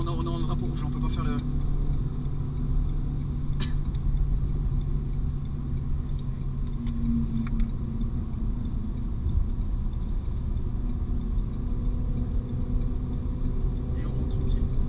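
A Renault Mégane 4 RS at Magny-Cours circuit cruising back slowly under a red flag, its engine a low steady rumble inside the cabin with faint ticks.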